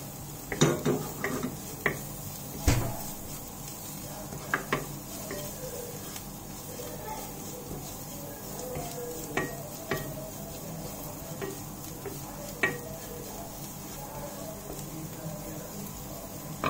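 Garam masala, turmeric, pepper powder and fennel stirred into sautéed onions in a pan, soft frying sizzle with scattered clinks and scrapes of a utensil against the pan, fairly quiet.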